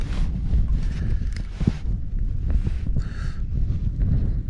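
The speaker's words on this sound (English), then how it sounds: "It's just a bit of wind in it" Steady wind buffets the microphone on an exposed hilltop at night during a bivvy bag camp, a continuous low rumbling roar with gusty swells and no voices.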